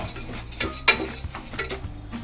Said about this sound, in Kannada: ಒಂದು 10 ಮಿನಿಟ್ಸು ಅದನ್ನು ಫ್ರೈ ಮಾಡಿ ಸ್ನೇಹಿತರೆ.